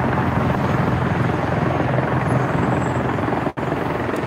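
A helicopter lands at the West 34th Street Heliport, its rotor chop and engine roaring loudly and continuously close by, with one brief dropout near the end.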